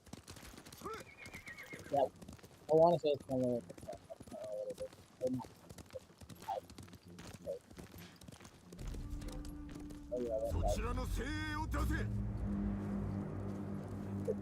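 Within a video game, a horse gives loud whinnies and its hooves clip-clop, then steady galloping continues over a rumbling background while a person talks intermittently.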